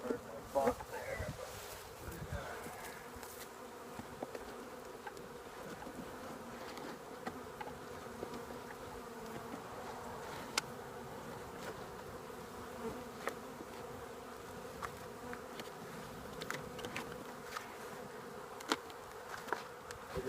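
Honey bees hum and buzz around a hive opened for a late winter inspection, a steady drone with occasional louder passes of individual bees near the listener, and faint human sounds in the background.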